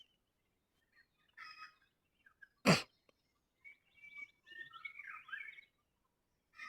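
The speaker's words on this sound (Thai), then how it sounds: "เด้เสียงไก่ป่ากระตาก" Wild junglefowl call in the early morning outdoors: bright, short crowing and clucking bursts scattered across several seconds, with one sharp loud burst near the middle and fainter calls trailing after.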